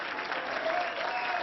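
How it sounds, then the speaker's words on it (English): Crowd at a campaign rally in Ohio cheering and applauding, a continuous wash of clapping with cheers mixed in, held at a moderate level without pause. "Cheering section back there."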